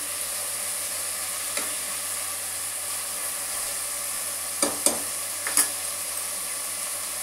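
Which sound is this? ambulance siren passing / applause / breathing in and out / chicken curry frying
chicken curry frying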